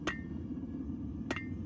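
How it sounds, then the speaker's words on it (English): Two sharp, ringing hammer blows about 1.2 seconds apart, each striking a large, too-big piece of hot steel on an anvil while forging a leaf, with a steady roaring gas forge burner filling the background. "I'm back to my big boy Christmas hammer"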